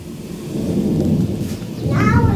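Summer thunder during a rainstorm rolls as a deep, continuous rumble with steady rain noise, loud and close, swelling toward the end.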